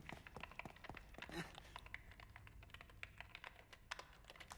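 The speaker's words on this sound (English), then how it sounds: "Oh, that's typing." Typing on a keyboard in the horror video game The Evil Within: rapid, irregular clicking keystrokes in quick bursts, faint and close, with no speech over it.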